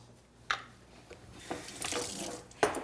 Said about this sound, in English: to get all the sauce out of each jar, I put a little water.